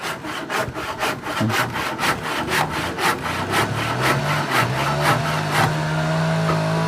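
Wood being sawn by hand during work on a house extension, a steady run of quick, evenly spaced rasping strokes close by, with a low motor-like hum joining partway through.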